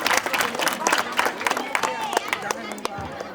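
A crowd at a school farewell ceremony claps for the teachers in a brief, lively burst of applause with some cheering, as a voice talks over the clapping.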